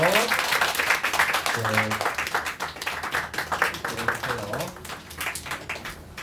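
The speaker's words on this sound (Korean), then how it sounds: "우리 큰 박수로 환영할게요" Applause greets a new member joining a church middle-school youth worship service: a dense, steady wash of clapping from a crowd, with some tonal voices or music under it.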